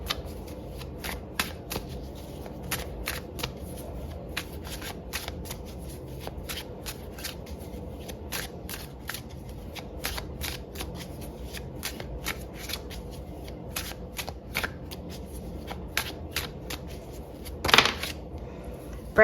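Oracle cards from a Teacup Love deck are shuffled in a steady run of crisp, close riffling flicks, with a louder burst near the end and no talking.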